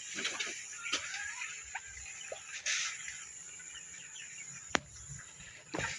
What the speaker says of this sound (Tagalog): Ito na yung mga alaga nating manok